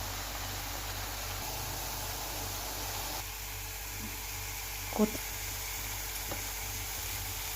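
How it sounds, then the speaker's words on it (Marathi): Garlic-coconut paste sizzles steadily in hot oil with cumin and curry leaves, a continuous close frying hiss with a brief stir clatter midway, no talking. "लसूण खोबऱ्याची पेस्ट छान अशी तेलामध्ये भाजून घ्यायची"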